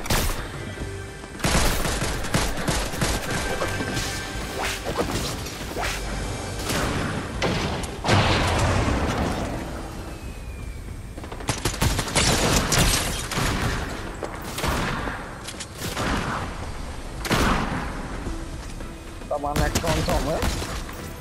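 Video game gunfire as a player shoots at an NPC, with repeated loud shots and bursts through most of the stretch and a mix of other game sounds and crashes around them.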